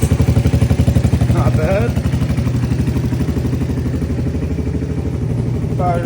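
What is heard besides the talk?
engine of a Honda Big Red barn find starting up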